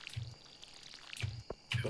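Watering crops with a watering can in the farming game Stardew Valley, heard as a few short, soft splashy pours repeating at intervals, fairly quiet.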